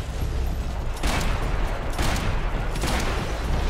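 Gunfire in Max Payne 3, a dense continuous rattle of shots with three heavier blasts about a second apart, close and loud.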